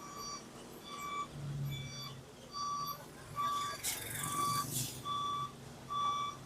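A truck on a badly damaged road in Gresik sounds a steady series of regular reversing beeps over its low engine rumble, with a brief burst of hissing noise partway through.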